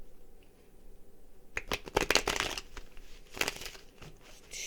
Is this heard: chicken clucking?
no